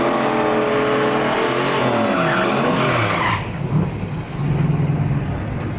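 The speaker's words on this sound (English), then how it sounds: "let's see how the Mustang runs here in Saskatchewan" A turbo LS-powered Ford Mustang Foxbody of around 1,000 horsepower launches down a Saskatchewan drag strip at a drag-and-drive event, its engine screaming loud with tire squeal, then the roar cuts off abruptly and fades into lower rumbling.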